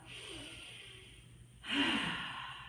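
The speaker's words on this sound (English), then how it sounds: "Take a couple of breaths, breathing in through the nose," During a Kundalini yoga practice, a single person breathes slowly: a soft inhale through the nose, then a louder, fuller exhale through the mouth, close and quiet.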